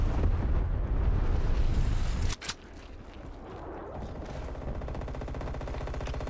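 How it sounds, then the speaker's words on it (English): A Call of Duty: Black Ops Cold War enemy napalm strike roars with dense, continuous explosive rumble that cuts off abruptly, leaving a quieter crackling, rattling tail of burning and distant fire. "Enemy napalm strike incoming."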